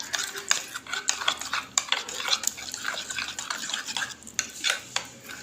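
A spoon scrapes and clinks around a bowl of vegetable breakfast mixture, with quiet irregular stirring taps and soft wet churning, close and alone.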